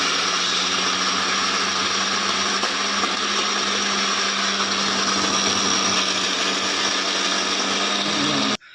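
An electric mixer grinder whirs as it grinds dry peanuts into peanut butter. The loud, steady motor whine holds for several seconds, then cuts off abruptly at the end.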